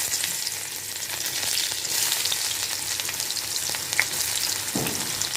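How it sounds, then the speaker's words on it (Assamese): Chopped onions fry in hot oil with a steady, close sizzle and bubbling hiss, with a brief stir or clink near the end. "এতিয়া দিম কাটি লোৱা পিঁয়াজখিনি"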